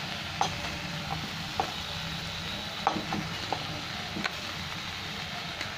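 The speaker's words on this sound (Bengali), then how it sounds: "এবার আমি আলু মাখাটা দিয়ে দিলাম" Soft steady sizzling of mashed boiled potato frying with spices in a pan, punctuated by occasional light clicks and scrapes of stirring.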